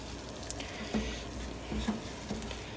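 A butter and flour roux cooks in a pan with a steady, soft sizzle, broken by a few faint scraping and stirring touches, close and alone.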